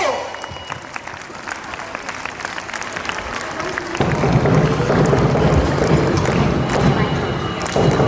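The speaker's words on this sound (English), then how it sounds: "A big round of applause once again for those brilliant young actors." An audience at an Independence Day event applauds young actors after their performance, scattered clapping that swells into louder, fuller applause halfway through.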